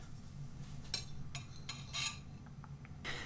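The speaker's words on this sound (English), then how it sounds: "Just give it a good stir." Rice being stirred with chili paste mixed in, a spoon scraping and clinking against the pot in a few short bursts over a steady low background hum.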